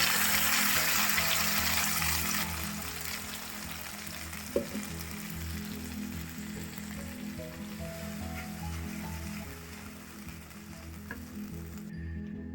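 A paste of onion, cashew and tomato cooks in hot oil in a pan, giving a continuous close sizzle and bubbling over a low steady hum, with one brief clink partway through and no talking.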